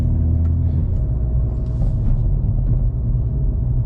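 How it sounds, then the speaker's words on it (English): A Hyundai Veloster N pulls away on launch control, with a loud, dense low engine rumble and exhaust roar that holds strongly for a few seconds without talk. "I forgot this thing has launch control."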